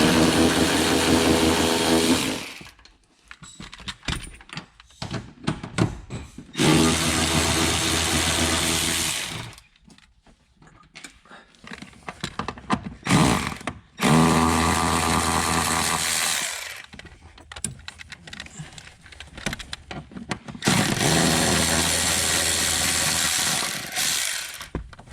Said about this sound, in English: now I'm just gonna take my electric ratchet and undo all of them fully